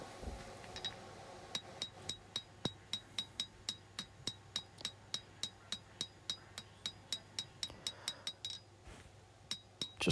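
Steady, evenly spaced hammer blows ring out as a bladesmith planishes the bevels of a hand-forged steel integral-bolster hunting knife, about two strikes per second, each a bright metallic clink over faint background hiss.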